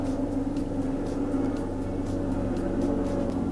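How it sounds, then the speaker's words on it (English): A steady, low engine rumble drones throughout, like a plane passing overhead at a distance, with no voices. "there's a plane outside"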